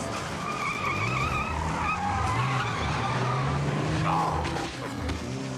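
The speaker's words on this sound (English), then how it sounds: "Just smashing her car right through the door." A car in Buffy the Vampire Slayer skids and smashes through a door, a dense, loud rush of tire noise and engine roar held steady throughout, with clattering impact texture and no talk.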